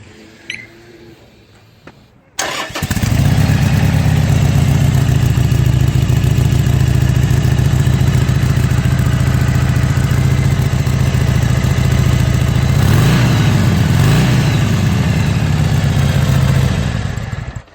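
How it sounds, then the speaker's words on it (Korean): A 2017 Harley-Davidson 883 SuperLow motorcycle engine starts up after a brief quiet moment and idles with a deep, steady, loud burble through a stock muffler, with a brief blip of throttle midway. "머플러는 순정이네요 어, 늘 하던 거니까 순정이지만 머플러 소리 한번 들어볼게요"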